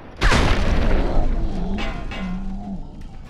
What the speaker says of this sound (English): and of course exploding more super mutants